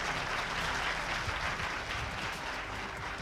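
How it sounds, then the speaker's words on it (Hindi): Audience clapping at a business opportunity seminar, a brief, even burst of applause from a crowd, sustained at moderate loudness. "तो ताली बजा लीजिए"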